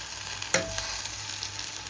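Tomatoes tipped into a pan of fried onions, a single sharp clatter followed by a steady, moderate sizzle that carries on for the rest of the brief moment.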